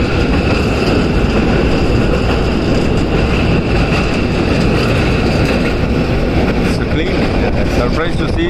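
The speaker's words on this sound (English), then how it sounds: "See a train going." A train running at speed on the way out of Mumbai, its dense, loud rumble and rattle filling the whole stretch without letting up.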